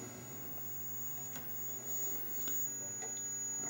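A faint, steady electrical hum from a Joust arcade machine's monitor drones with a thin high whine, broken by a few soft clicks and ticks.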